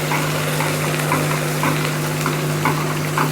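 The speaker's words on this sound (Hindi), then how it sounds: "प्याज को हम खूबसूरत सा कलर आने तक फ्राई करते हैं।" Onions frying in hot oil with spices for a fried daal mash, giving a steady, close sizzle with soft stirring scrapes pulsing through it and a low constant hum underneath.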